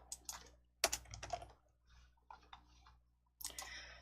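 Keys clacking and mouse clicks on a computer keyboard, arriving in short irregular bursts with quiet gaps between them, close and clear with no talking.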